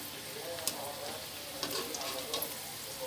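Pieces of bitter gourd fry in oil in a pan, a soft, continuous sizzle with scattered sharp crackles and small pops.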